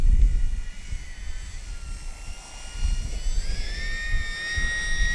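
An FMS Kingfisher RC seaplane flies a touch and go on a windy day, its electric motor giving a steady whine that rises and sweeps in pitch over constant wind rumble, with no talk.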